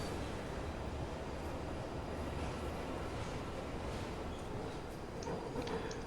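Steady, low rumble of a train ride in Fallout London, a continuous rolling rail drone with faint clicks, no talking.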